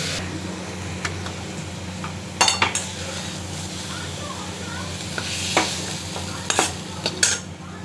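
Red amaranth leaf fry with peanuts and poppy seeds sizzling steadily in a pan, while a spatula stirs with occasional scraping clinks in small clusters, close and fairly loud without speech.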